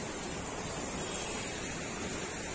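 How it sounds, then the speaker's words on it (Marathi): The Ganga river flows beside a monastery in Haridwar, heard as a steady, broad rush of moving water, continuous and fairly soft, with no voices. "गंगा नदी वाहते"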